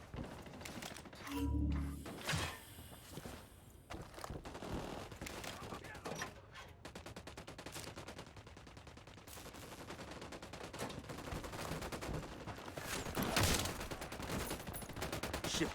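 Bursts of gunfire from a firefight in the tactical shooter Ghost Recon Wildlands, with sustained automatic fire and scattered thumping shots running throughout, dense and fairly close, with occasional voices in the mix.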